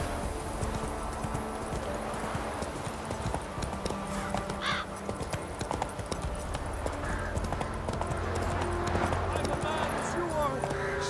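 Roach, a horse in the video game The Witcher 3, gallops with steady, rhythmic clip-clop hoofbeats, heard close and continuous beneath game music and ambience with a whinny along the way.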